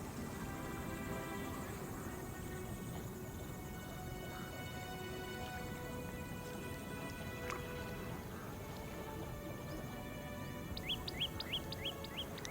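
A roost of gathering egrets gives a dense, continuous chatter of many bird calls at a distance, with a few clearer chirps rising near the end.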